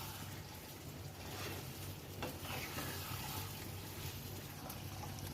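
Pointed gourd sautéing in oil in a pan, a steady close sizzle with soft stirring running evenly throughout, no voices.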